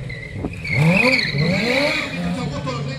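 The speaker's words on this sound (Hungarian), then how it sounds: "Gabikám, de szépen jön fel a motornak a hátulja" A stunt motorcycle engine revs during a stunt riding championship run in Hungary. Its pitch rises and wavers, loud and steady, with a commentator talking over it.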